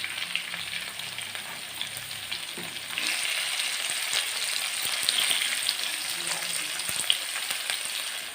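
Onions and green chillies frying in a pan for a dry pork dish, a continuous close crackling sizzle that swells louder partway through, with a few faint stirring knocks and no voices.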